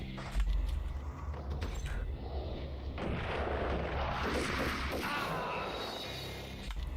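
Gunfire from the video game Max Payne on Dead on Arrival mode, a dense rumbling barrage of booming shots and blasts that runs the whole stretch at steady loudness, with faint voices now and then.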